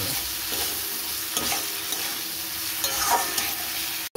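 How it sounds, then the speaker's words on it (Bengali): Vegetables and spices stir-fried in a pan, a steady close sizzle with scraping stir strokes throughout, ending abruptly. "সব এগুলো সবজিগুলো আবার মশলার সাথে কষিয়ে নেব।"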